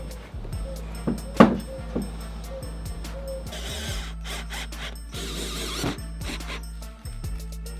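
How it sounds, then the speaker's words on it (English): Power drill driving screws through plywood into crosscut sled runners in a woodshop: several short whirring bursts with a sharp clunk near the start, fairly close, over a low steady hum. "add the plywood, and screw down through the pre-drilled holes"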